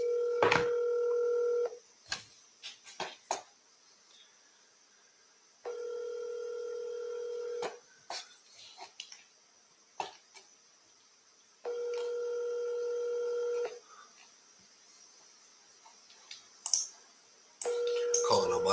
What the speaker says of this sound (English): Calling on my phone because she's not in my CRM.